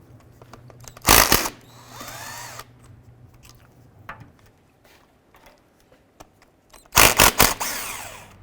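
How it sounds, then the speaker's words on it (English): A power tool spins out the differential bolts on a 2005-10 Jeep Grand Cherokee in two loud whirring bursts, one early and one near the end, with quieter clanking and shop noise between them. "We're going to go ahead and remove these series of bolts all the way around here."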